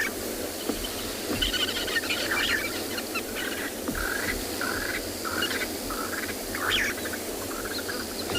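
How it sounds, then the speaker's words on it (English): Birds calling at sunset on an African safari, a steady distant chorus of chirps and whistles over a constant bed of insect buzzing, with no voices. "all of the bird sound that you can hear in the background"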